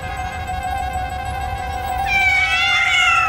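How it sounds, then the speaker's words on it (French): Drawn-out cartoon cat meows in an animated children's show ring out, with a second, higher yowl joining partway through over a low background rumble. "Des chats!"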